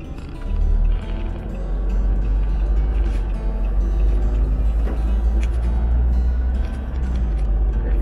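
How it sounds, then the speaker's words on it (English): Steady low rumble of cars idling and crawling in a traffic jam, heard from inside a vehicle as a continuous droning engine and road noise with no voices. "Oh my God, traffic na."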